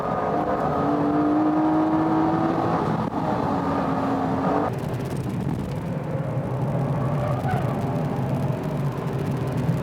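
A Honda NSX and Toyota sports cars race at SUGO circuit, their engines giving a loud, steady roar with a rising whine that shifts pitch midway, continuous throughout.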